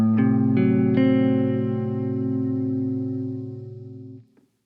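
A minor 6 chord voiced as the tonic in the Dorian mode, played on an effects-laden electric instrument: a few quick picked notes build into one sustained, chorus-tinged chord that rings for about four seconds before cutting off.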